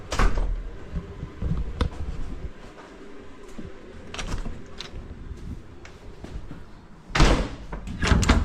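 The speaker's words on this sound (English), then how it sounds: "First, we'll roll the barn door open and get the air hose out." A barn door rolls open on a farm on harvest day, with rumbling and clanking bursts, a sharp bang near the start and a louder rattling slide toward the end.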